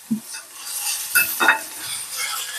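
Ginger garlic paste sautés in a pan for a prawn pepper curry, with a light sizzle and several distinct scraping stirs of a spoon close by.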